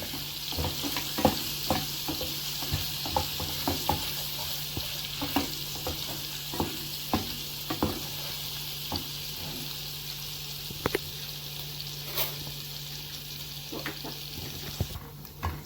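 Garlic frying in oil in a pan while cooking koshari, a continuous close sizzle with repeated stirring scrapes and clicks throughout, no talking.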